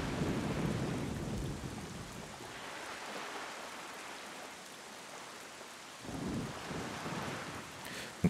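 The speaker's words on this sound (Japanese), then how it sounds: "雨が降って闇に覆われている" Steady rain with a low thunder rumble in the video game Zelda: The Wind Waker, a dense wash of falling water that swells again near the end, with no voices.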